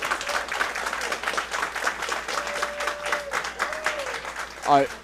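A wrestling crowd at a live indoor show applauds and cheers loudly throughout, with a commentator's voice running over the noise and a brief louder shout near the end.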